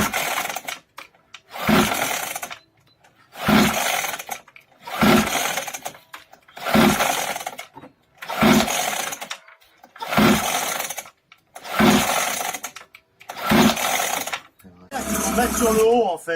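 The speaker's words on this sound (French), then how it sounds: "on va essayer de la démarrer" A children's petrol motorbike is pull-started over and over: about eight rasping, roaring pulls of the starter cord in a steady rhythm, each separated by a short pause, close and loud, with a voice in the background.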